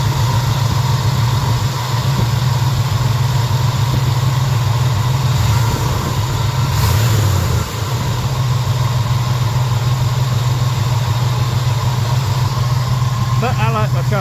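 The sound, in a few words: car engine idling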